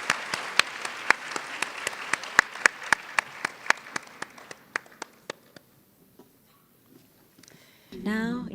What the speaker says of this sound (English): please give another big round of applause for the panelists for this session